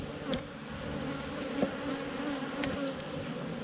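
Honey bees drone steadily at an open hive, a close, continuous layered buzz with a few individual bees zipping past.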